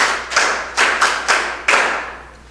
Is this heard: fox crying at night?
no